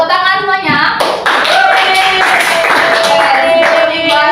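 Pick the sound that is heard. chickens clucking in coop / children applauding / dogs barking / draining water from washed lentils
children applauding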